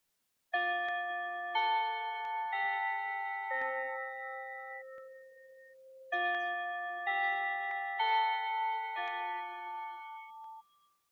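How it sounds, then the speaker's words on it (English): A gentle multi-tone chime, like a doorbell or ding-dong bell, marks the close of a podcast episode, playing two clear descending phrases that ring out and fade, with no talking over it. "That bell means we've reached the end of today's episode."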